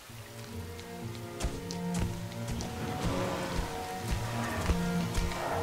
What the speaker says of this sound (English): Raindrops and footsteps